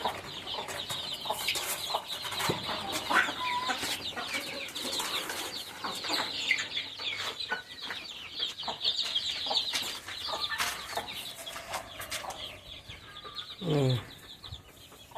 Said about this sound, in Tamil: அண்ணாண்ட கருங்கோழி வச்சுருக்கோம்.